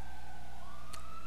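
Emergency vehicle sirens wail steadily with a rising pitched tone over a constant low rumble of traffic, loud and continuous, with a brief sharp crackle partway through.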